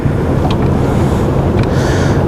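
A fishing boat motors across Beaver Lake, its engine a steady low drone mixed with wind and water rush, close and loud throughout with no voices.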